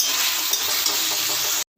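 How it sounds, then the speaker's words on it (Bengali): Spices with potato and pointed gourd sizzle steadily in hot oil as they are cooked down with splashes of water, a continuous close frying hiss that cuts off abruptly near the end. "এবার আমি খুব ভালো করে একটু জল দিয়ে দিয়ে মশলাটা আলু পটলের সঙ্গে কষিয়ে নেব।"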